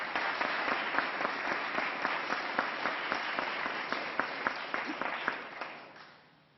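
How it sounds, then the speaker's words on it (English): Steady round of applause from an audience at a bill-signing event about low-cost high-speed internet, dense clapping with a few sharper claps near the end before fading out. "Let's give them a round of applause."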